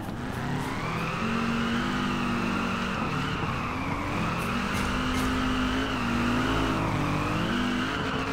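Mazda cars tandem drift in the Drift Online video game, engines wailing at high revs with shifting pitch and tire squeal in a continuous, close, loud stretch with no talking.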